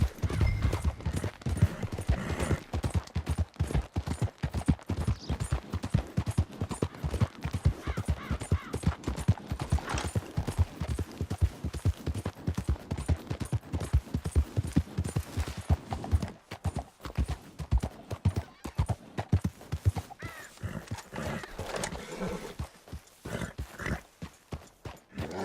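Horse hooves clip-clopping steadily at a gallop in Red Dead Redemption 2, a continuous fast rhythm close and loud throughout, with an occasional snort and no talk over it.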